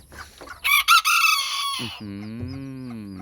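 A young rooster crows harshly nearby, followed by a long, drawn-out clucking call from a young hen.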